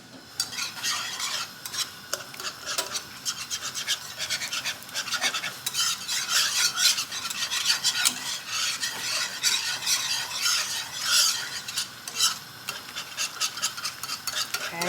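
A spoon scrapes and stirs a clumping flour roux in a pan for a pasta bake, a continuous close rasping and rubbing with faint sizzling, no voices over it.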